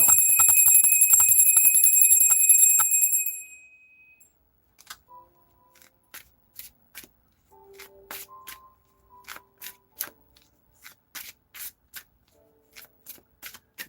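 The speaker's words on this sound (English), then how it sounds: "Ah, the bell." A small bell rings in a bright sustained burst for a few seconds, then fades into quiet, followed by a run of soft irregular taps and card shuffles at a tarot reading table.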